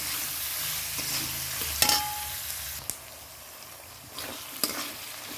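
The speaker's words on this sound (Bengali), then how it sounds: "এবার দিয়ে দেবো পেঁয়াজগুলো" Onions dropped into hot oil with whole spices, frying with a loud sizzle, punctuated by sharp clanks and scrapes of a spoon stirring in the pan, close up with no talk.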